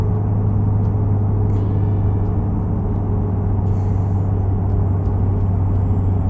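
A V8 truck engine in American Truck Simulator holds a loud, steady low drone with a constant deep hum, no talk, and no clear rise or fall in revs.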